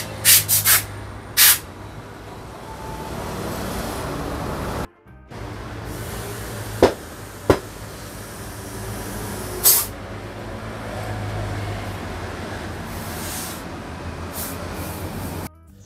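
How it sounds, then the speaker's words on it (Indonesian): Used outer tyre being fitted at a tyre shop: scraping, rubbing mechanical work over a steady low workshop hum, with sharp hissing bursts of compressed air near the start and several short clicks and knocks later. "ini kita sekarang lagi proses pemasangan ban luarnya ya"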